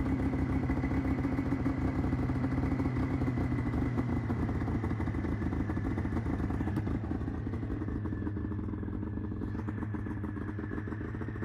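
Two-stroke motorcycle engine idling fast and steady close by with the choke pulled, a rapid buzzing rattle that holds for several seconds and eases slightly toward the end.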